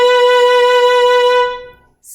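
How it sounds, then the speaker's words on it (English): Violin sustaining a single bowed note with fast, wide vibrato, steady and loud for about a second and a half before the tone dies away; played alone without talk. "Fast and wide might sound something like this."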